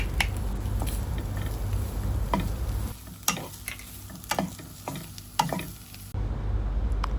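Chicken stir-fried with ground pepper in a pan for Schezwan fried rice, a constant sizzle with repeated sharp scraping stirs and clacks from the utensil, close and fairly loud.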